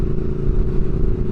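A 2022 Triumph Speed Twin with a rebuilt motor runs steadily with a loud aftermarket exhaust. The deep, continuous engine drone is mixed with wind noise and has no speech over it.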